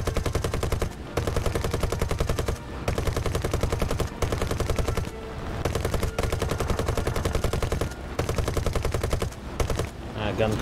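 Long rapid bursts of aircraft machine-gun fire in War Thunder, loud and close, a dense rattling stream broken by brief pauses between bursts, with a voice speaking briefly near the end.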